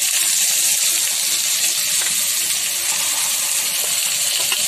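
Raw mango pieces sizzle in a hot pan with salt, a steady, close hiss of frying that runs unbroken throughout without any talking.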